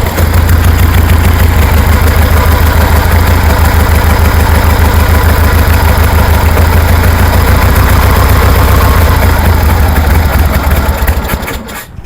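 1973 Harley-Davidson Sportster engine with CV40 carburetors running on choke, a loud, close, steady low rumble that holds for about eleven seconds before cutting out abruptly at the end.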